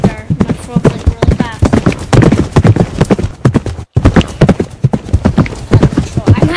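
Horses Frog and Jonny trot and gallop with steady, close hoof clip-clops in quick rhythm, heard beneath nearly constant talking from a rider.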